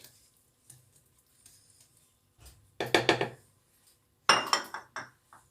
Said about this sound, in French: Il faut mélanger le thon aux œufs, au jaune d'œuf